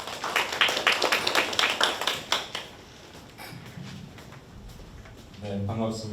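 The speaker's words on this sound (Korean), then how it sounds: "박수로 모시겠습니다." An audience at a Busan labour rights centre results presentation claps in a brief burst of sharp, close applause welcoming the centre director, which fades out as a voice begins speaking.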